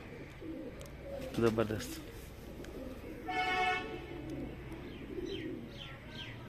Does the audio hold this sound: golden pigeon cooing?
yes